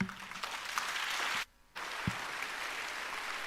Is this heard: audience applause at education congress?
yes